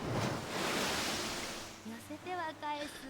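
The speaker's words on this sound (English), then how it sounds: "The sound of the waves crashing." Ocean waves crash on the shore in the video game Umamusume, a broad surging rush that swells and fades before a voice begins speaking over the quieter surf.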